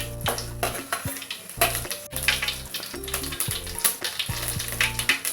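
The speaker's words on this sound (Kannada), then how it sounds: "ಇವಾಗ ನಾವು ಇದಕ್ಕೆ ಒಗ್ಗರಣೆಗೆ ಜೀರಿಗೆ ಮತ್ತು ಸಾಸಿವೆನ ಹಾಕೋತಾ ಇದ್ದೀನಿ" Oil crackles and sizzles steadily with dense spattering as cumin and mustard seeds fry for a lemon rice tempering, while low tones and clinks of a pan run underneath; no voices.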